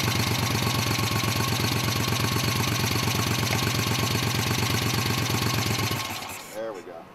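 A freshly restored 1974 Moto Guzzi Eldorado motorcycle engine runs with a steady, close, throbbing idle for about six seconds before it shuts off and falls quiet.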